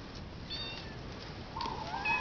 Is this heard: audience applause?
no